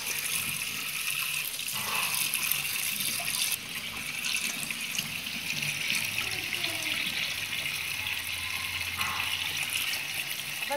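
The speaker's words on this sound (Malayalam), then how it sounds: "ഇനി ഇതൊന്ന് നമുക്ക് കഴുകി വൃത്തിയാക്കി കഴുകി എടുക്കുക." Steady running tap water splashing continuously into a sink while cassava peel is washed for a thoran, close and fairly loud throughout with no talking.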